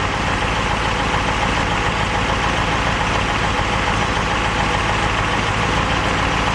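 A 1957 Bramlett engine idles steadily while warming up, a constant low rumble with a broad, even mechanical roar that holds unchanged throughout, with no talk.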